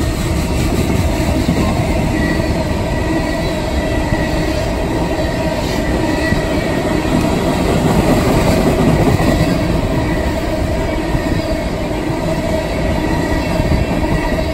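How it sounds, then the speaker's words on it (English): A westbound CSX mixed freight train rolls past close by, a loud, continuous rumble and roar with steady wheel clatter and occasional squeal. "CSX westbound, mixed train, you guys watching."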